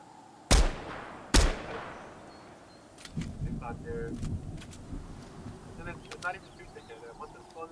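Two sharp, loud gunshots ring out close together in a Fortnite random duo match, followed by quieter rustling, movement and game effects while voices talk over the scene.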